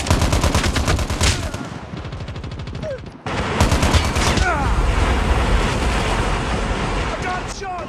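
Gunfire in Call of Duty Mobile: loud, rapid bursts of automatic fire in close succession, a brief pause, then sustained firing continues, with game voice lines over the shooting.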